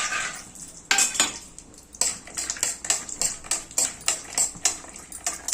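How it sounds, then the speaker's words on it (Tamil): Cashews roasting in ghee on a low flame, stirred briskly with a metal spoon that clinks and scrapes against the pan in a quick, regular rhythm, close and fairly loud, with no voices. "கொஞ்சம் சிம்மில் வச்சுட்டு முந்திரி பருப்பு வறுத்து கொட்டிடலாம்."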